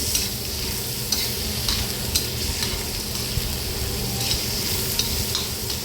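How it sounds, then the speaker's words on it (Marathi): Onion and tomato are sautéed in a pan for egg bhurji, a steady close sizzle broken by regular scraping stirs, with no talk. "टोमॅटो टाकल्याच्यानंतर पुन्हा कांद्यासोबत व्यवस्थित तेही परतून घ्यायचं"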